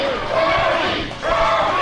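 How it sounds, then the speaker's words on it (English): A wrestling crowd at a Summer Heatwave match roars in support of Toby Farley, loud massed voices and chanting swelling twice in under two seconds, with a commentator talking over it. "Crowd definitely behind Toby."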